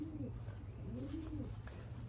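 Soft, low cooing from racing pigeons returning home, a couple of rolling coos heard fairly faintly over a steady background hum.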